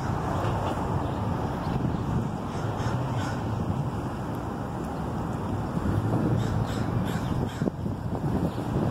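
Several crows cawing in Oregon outdoors, repeated harsh calls scattered through a windy, breezy background, fairly close and clear, with no speech.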